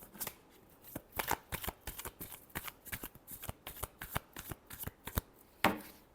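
Tarot cards being shuffled by hand make a close, crisp run of rapid riffling and slapping sounds in uneven bursts, ending with a sharper snap.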